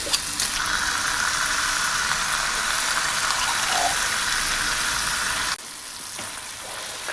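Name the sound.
stirring tomato sauce and paste into beef in a skillet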